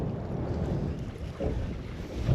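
Strong wind gusts across an open marsh, buffeting the microphone with a low, uneven roar that swells and eases over a couple of seconds.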